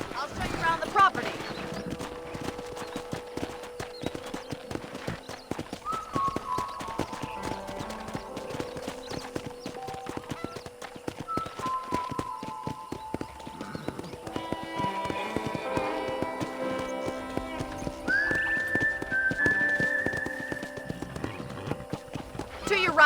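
Horse hooves clip-clop steadily as the horse is ridden through a Western ranch in Red Dead Redemption, with an occasional whinny, under game music and a character speaking.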